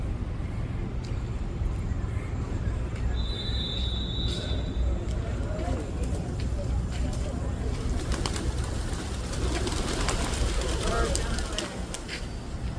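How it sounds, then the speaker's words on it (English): Pigeons coo on a busy New York City street, soft throaty calls under a steady wash of traffic and city noise while someone talks over them. "Look at all the pigeons"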